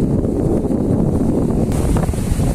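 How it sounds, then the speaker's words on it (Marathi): Strong wind at the seashore buffets the microphone, giving a loud, continuous low roar and rumble with gusting surges and a faint wash of surf behind it. "आता वारा एवढा लागतंय तर माझा आवाज तर तुम्हाला काय येत नसेल"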